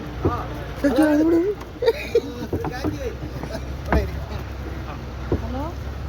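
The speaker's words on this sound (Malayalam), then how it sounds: "നമ്മൾ വള്ളം തുഴഞ്ഞു പോവുകയാണ്" Oars splash and knock rhythmically against a wooden boat on a river while people talk nearby, with light wind in the background.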